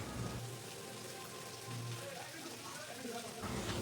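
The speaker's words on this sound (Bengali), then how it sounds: "একটুখানি তেল গরম করে নেব। প্রথমে দিয়ে দেব পেঁয়াজ।" Onions dropped into hot oil for an easy chicken curry, giving a steady, crackling sizzle like rain that keeps up throughout at moderate loudness, with faint talk under it.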